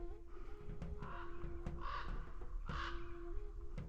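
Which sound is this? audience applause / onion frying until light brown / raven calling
raven calling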